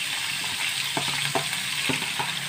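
Onions frying in hot ghee with spices, part of a duck dish, give a steady close sizzle with a few sharper stirring scrapes and bursts near the middle of the clip.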